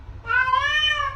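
A cat gives a single clear, drawn-out meow at close range, rising and then tailing off over about a second against a quiet room background.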